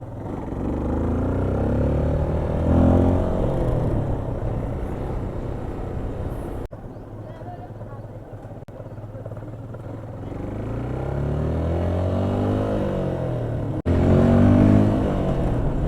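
A Yamaha FZ motorcycle being ridden, its engine a loud continuous drone with rising and falling pitch as it speeds up and slows, with wind noise throughout.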